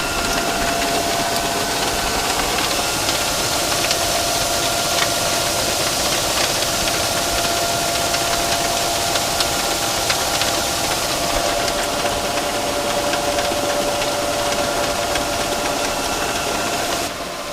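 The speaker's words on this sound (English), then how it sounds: "we're just putting it up the auger now" Grain auger running steadily while loading feed barley in snowy, cold weather, a loud continuous mechanical drone with a faint knocking vibration and a thin whine, unbroken throughout.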